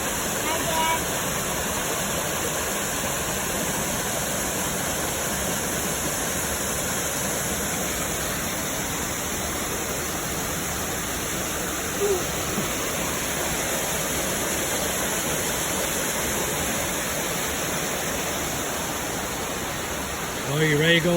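A fast-flowing waterfall and stream in Boone County, Arkansas, give a loud, steady, continuous rush of water throughout, with occasional brief voices close by.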